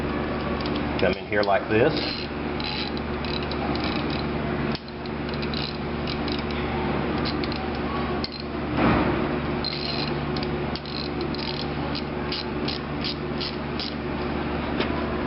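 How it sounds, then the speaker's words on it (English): A hand ratchet tightening a removable cable choker on a 1/2 inch hose, giving steady mechanical clicking and grinding that runs continuously up close, with a brief spoken remark near the start. "You'll get your ratchet."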